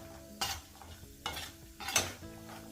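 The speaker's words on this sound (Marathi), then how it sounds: "बदाम तळून घेते" Almonds and dry fruits fry in a pan, a quiet sizzle broken by three or four short scraping stirs at irregular intervals, with no talk.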